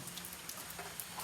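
Rain falling outdoors on a Diwali night during firecracker celebrations, a faint, steady hiss of drops with no voices.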